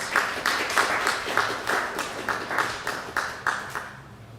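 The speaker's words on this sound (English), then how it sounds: "Ladies and gentlemen, a big round of applause for all the graduates." An audience at a college graduation ceremony for the class of 2020 gives a round of applause, the clapping swelling in rhythmic waves before tapering off toward the end.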